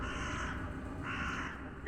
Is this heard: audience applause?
no